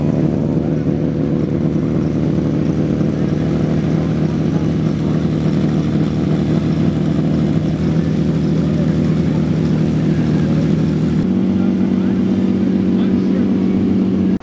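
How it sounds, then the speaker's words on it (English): A Lamborghini Countach engine runs nearby at a loud, deep idle that stays steady, then drops to a lower, smoother pitch near the end, with a voice partly buried under it. "we're being interrupted by a Countach being started. So here's a Lamborghini Countach sound."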